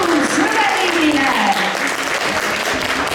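An audience at a Christmas craft fair concert applauds steadily and loudly for several seconds, dense clapping with a speaking voice faintly over it.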